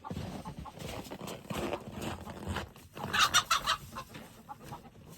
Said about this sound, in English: It sounds like Bean discovered one of the chickens